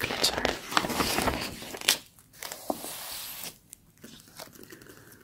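Gloved long nails handle and flick glossy Vogue magazine pages up close, producing crisp crinkling, rustling and tapping bursts with quiet pauses, under soft talking.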